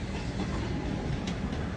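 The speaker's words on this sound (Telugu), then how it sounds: "కనిపిస్తుంది కదా అక్కడ ట్రైన్" A train at a railway platform near Ballarat, Australia, giving a steady low rumble with faint rhythmic clatter that runs unbroken throughout at moderate distance.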